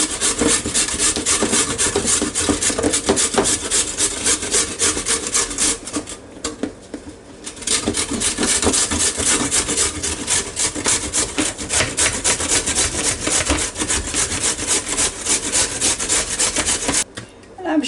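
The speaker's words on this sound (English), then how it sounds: "I'm just using the this grated side of the grater" A carrot is rubbed up and down the coarse grating side of a box grater in a home kitchen, making a steady, rhythmic rasping scrape that runs close and loud with one brief pause.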